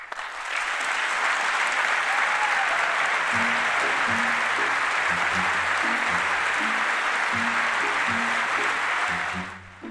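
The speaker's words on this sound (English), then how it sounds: "To clap or not to clap?" Sustained applause fills the chamber of Congress during a State of the Union address, a broad, even wash of clapping from many hands that holds steady throughout, with low sounds underneath it.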